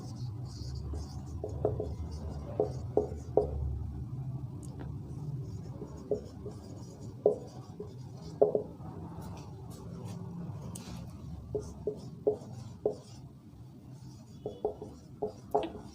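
A teacher writes on a board during a physics class, with scratchy strokes and sharp taps recurring irregularly over a low background hum and no clear speech.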